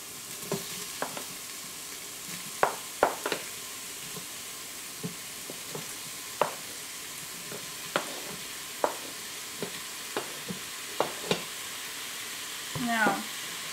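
Sausage frying with minced onion in an Instant Pot: a steady soft sizzle under scattered clicks and scrapes of stirring, fairly quiet and close.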